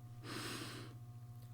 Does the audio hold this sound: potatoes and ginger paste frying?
no